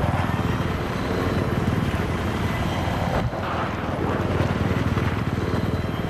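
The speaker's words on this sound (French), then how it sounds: "Ouais, attention, il y a hélico." Battlefield 3 helicopter in game, a steady loud rotor drone with a dense low thrum throughout, briefly dipping midway, with faint voices talking.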